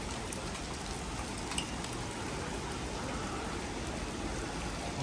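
Steady rain falls at Gira Waterfall near Saputara in a constant, even hiss, soft and uninterrupted, with no other sounds standing out.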